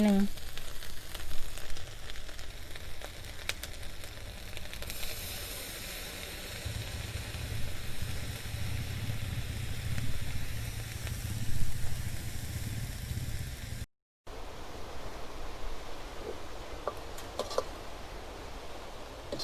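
Crickets dry-roasting with herbs in a pan give a steady, close sizzle and crackle throughout, with a brief dropout and a few light scraping clicks toward the end.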